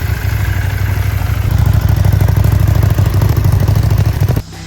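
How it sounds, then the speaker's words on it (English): CFMoto Ibex 800 motorcycle engine running through its stock muffler, a steady low throbbing idle with slight mechanical clatter, close and loud, continuous for over four seconds before dropping away abruptly. "I think this bike sounds pretty good stock as well."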